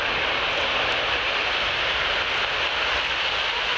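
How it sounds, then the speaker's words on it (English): An Airbus A400M military transport aircraft takes off at the RIAT 2014 air show, giving a loud, steady, broadband engine roar that fills the whole stretch without any talk. "Rolling now, the Airbus A400M."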